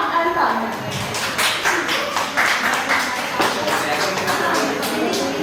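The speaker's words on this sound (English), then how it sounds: "Let's give a huge round of applause to Nishika, Tanya, Muskan" An audience at a college tech fest applauds a presenting student team: a steady wash of clapping that continues throughout, with a voice speaking over it.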